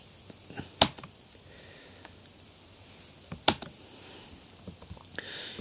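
A computer keyboard is tapped while writing Java code in Eclipse, with sparse, quiet individual keystrokes and a few sharper clicks spread over a faint room hush.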